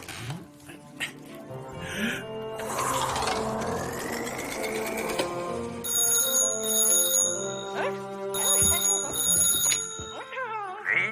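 A telephone rings on an outgoing call in repeated ringing bursts, mixed with other sounds and a voice in the background.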